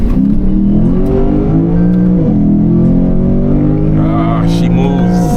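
A Lexus GSF sedan accelerating hard, its engine rising in pitch through the gears with a brief shift dip, loud and close, lasting several seconds.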